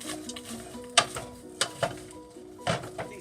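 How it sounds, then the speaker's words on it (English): Spinach and chicken burrito filling simmers and sizzles in a sauté pan, with a few clicks and scrapes of stirring sounding close by. "we're just going to let that sit here and simmer for about 5 minutes"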